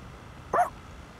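A single short dog bark from the Persona 3 Reload video game, one clear close woof over a faint low background hum.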